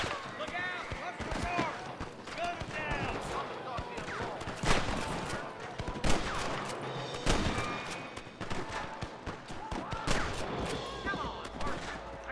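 Gunfire in Red Dead Redemption, a rapid string of sharp shots and cracks, some clustered into quick volleys, loud and close, with someone talking throughout.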